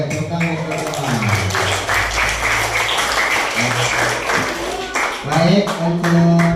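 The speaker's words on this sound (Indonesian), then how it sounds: "Ya, tepuk tangan buat semuanya." An elementary school class in Indonesia claps for everyone, a dense run of clapping from several children while a voice talks over it, easing toward the end.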